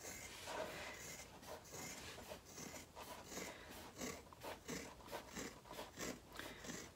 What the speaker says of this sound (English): So you just need to trim your seam allowance.